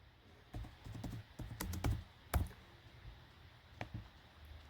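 Bursts of typing on a computer keyboard, with quick clusters of key clicks separated by short pauses, close and fairly quiet in a calm room.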